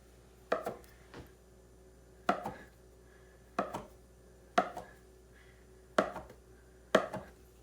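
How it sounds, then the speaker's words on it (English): A big knife cuts through tahini brioche dough, landing six sharp, evenly spaced chops on a board, close and clear with quiet between strikes. "Use a nice big knife and just cut straight through so you get nice clean cuts."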